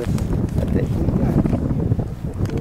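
Steady wind buffeting the microphone with a low rumble, continuous and close, over water during a March fishing outing, with faint voices underneath.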